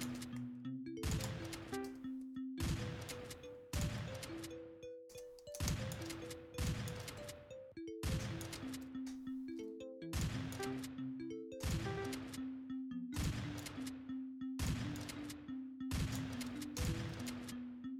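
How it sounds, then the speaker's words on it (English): A shotgun fires repeatedly in an indie video game. About a dozen sharp blasts come at a steady rhythm, each followed by a short tonal game sound and clatter, and the blasts are loud and alone. "I can jump, basically jump higher by firing my shotgun"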